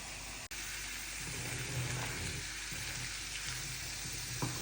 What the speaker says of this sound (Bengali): এখন মাংসটা দিয়ে ভালোভাবে কষিয়ে নিই